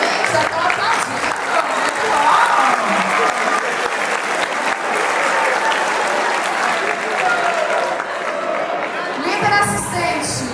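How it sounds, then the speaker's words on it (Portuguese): An audience at an evangelism-school small-groups gathering applauds steadily and loudly for about ten seconds, a dense wash of many hands with a few cheers rising near the end. "Já estou aplaudindo."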